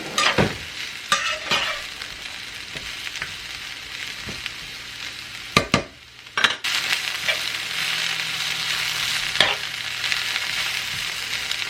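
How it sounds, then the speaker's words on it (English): Noodles being stir-fried in a pan: a steady sizzle runs throughout, broken by repeated scraping and stirring clatters and a brief lull near the middle. No one speaks. "I'm just going to stir fry these pretty quick"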